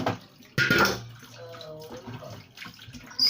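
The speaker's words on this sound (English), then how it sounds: "So we're going to be rinsing it and set aside." Tap water runs into a kitchen sink as food is rinsed, a near splashing rush that starts abruptly, then softens into trickling and gurgling before a fresh surge at the end.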